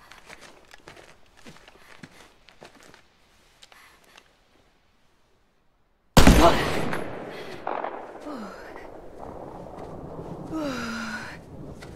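Sudden loud burst of gunfire in the shooter game Wolfenstein: Youngblood erupts after several seconds of quiet footsteps and faint movement, followed by dense continuing shots, debris and impacts with a few brief voice-like sounds.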